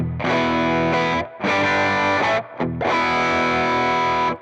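An electric guitar plays through a Tube Screamer overdrive on a Valeton GP-5 multi-effects unit, sustained distorted chords in three long strums with short gaps, loud and close, no talking.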